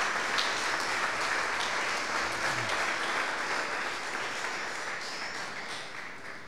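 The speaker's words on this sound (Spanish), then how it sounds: "Démosle un aplauso más al Señor" A church congregation claps together for the Lord in sustained, dense applause that fills the room and slowly fades, with no talk over it.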